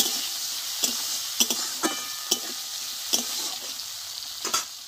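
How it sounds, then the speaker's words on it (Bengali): Chopped tomatoes hit hot oil and spiced tempering in a pan, a constant close sizzle broken by sharp spatters and stirring clatters at irregular moments. "টমেটোটা দিয়ে দিলাম। টমেটোটা একটু কষে নেব।"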